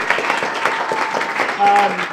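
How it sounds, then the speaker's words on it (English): An audience at a CodeAcross NYC 2015 event claps and cheers in a short loud burst, with whoops and voices mixed into the applause. "Let's do a big cheer for that."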